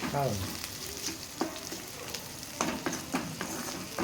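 Whole spices and a bay leaf fry in oil for a rice dish, giving a soft, steady sizzle with occasional stirring clicks and scrapes. The sound is moderately quiet and close, with no speech.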